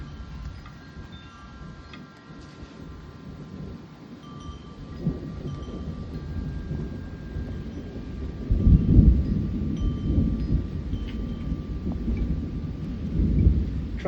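A South Carolina evening thunderstorm heard from a porch: steady rain hiss with low rolling thunder that swells loudly around the middle and again near the end, with no voices.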